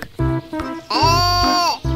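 A goat with horns gives a loud, close, quavering bleat, preceded by a couple of shorter calls.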